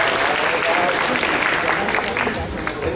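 A costume contest audience applauding at an anime convention, dense continuous clapping and crowd noise at full volume for the whole stretch, fading slightly at the end.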